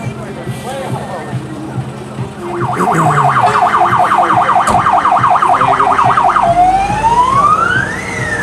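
A volunteer fire brigade truck in Terespol sounds its siren as it leaves a fire brigade picnic on an emergency call: a loud, fast wailing siren starts mid-clip and ends in one long rising sweep, over crowd noise and a rumbling engine.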